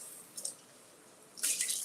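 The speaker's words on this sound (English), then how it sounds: "Let's rinse this out." Running tap water rinsing something in a kitchen sink, heard as two short splashing bursts, the second louder and sustained, close by with no talking.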